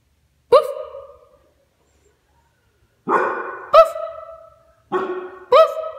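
A dog gives four or five sharp, close barks in two bursts, loud against an otherwise quiet room, with a long pause between the first bark and the rest.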